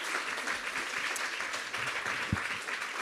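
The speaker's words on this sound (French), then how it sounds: "je vais demander à la salle de faire une activité physique en vous applaudissant comme vous le méritez" Conference audience in a hall applauding after a first round-table discussion on healthy ageing in Béarn, steady dense clapping throughout, fairly close and continuous with no speech over it.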